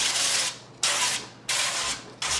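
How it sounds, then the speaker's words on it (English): Cooking spray hisses onto a baking pan in three quick bursts, each loud and close with short pauses between, no voices. "spray that pan"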